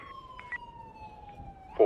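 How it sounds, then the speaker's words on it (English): A police siren sounds in a Los Santos roleplay video game, a faint, steady wailing tone that slowly falls in pitch, with a short louder burst near the end. "my dog is losing his mind over that siren"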